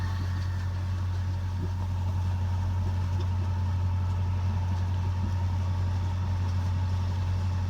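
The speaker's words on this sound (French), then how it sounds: "on se traîne au moteur à 1500 tours" A sailboat's inboard motor runs steadily at about 1500 rpm while motoring around a headland in the Dodecanese, a low, even drone with a constant hum and no talk over it.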